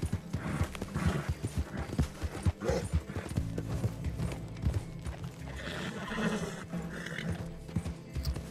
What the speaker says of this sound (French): Évite le cheval.